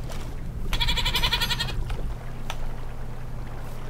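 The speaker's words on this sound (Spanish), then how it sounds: "Mira, una cabra." A goat bleats in modded Minecraft survival play: one short, quavering bleat stands out over a low, continuous game background, followed by a few faint clicks.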